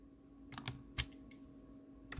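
Sharp clicks of a computer keyboard and mouse, with an Alt key held during a mouse drag while copying objects in Adobe Illustrator, giving a few isolated, close, quiet taps over a faint steady hum.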